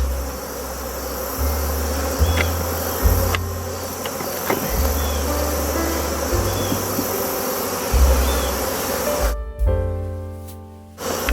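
Honey bees buzz steadily around an opened beehive during a late-summer hive split, a dense, droning swarm sound that holds close and loud throughout, with a few sharper clicks and a brief rustling burst near the end.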